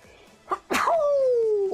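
A single sharp human sneeze bursts out loud and close, preceded by a short inhale and followed by a sustained high vocal wail, set against quiet background sound from a League of Legends game.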